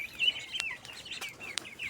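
Free-range 45-day-old broiler chickens kept with ducklings, heard at night at 3 a.m.: soft, faint chirps and clucks in a quiet coop, with a few sharp clicks among them.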